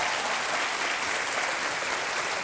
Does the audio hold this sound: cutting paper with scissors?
no